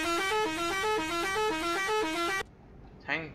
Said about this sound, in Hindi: ऐसा लगता है पहली बार किसी गाड़ी ने हॉर्न सुन के साइड हुई है